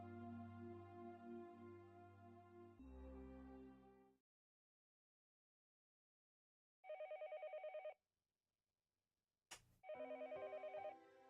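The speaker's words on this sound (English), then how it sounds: "The phone rang noisily downstairs." A telephone in the Higurashi video game rings downstairs in two loud buzzing bursts separated by silence, preceded by a sustained musical tone and followed by a sharp click.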